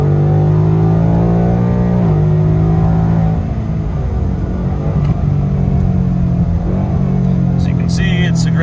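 A Ford Coyote V8 car with a 10-speed automatic accelerates hard from inside, a loud engine drone with pitch climbing and dropping at quick gear shifts, someone speaking briefly over it.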